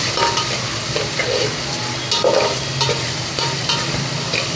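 Onion and tomato sauté over a high gas flame for spicy misal, with a steady loud sizzle and repeated scraping stirs in the pan throughout.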